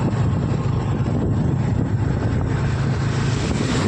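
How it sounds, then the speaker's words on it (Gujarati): Thunder rolls from the clouds over a market in Dholka as a steady, low, continuous rumble lasting about four seconds, with no talking. "વાદળનો ગડગડાટ"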